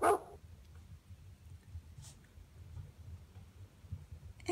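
Dog barking, a loud bark right at the start and another at the very end, with faint rustling and low background noise in between.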